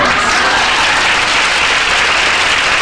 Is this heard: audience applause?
yes